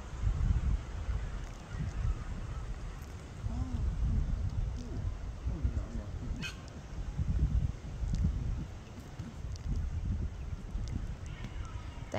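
Many birds honking and calling at a farm with sheep, busy overlapping calls close and far, with someone talking over them.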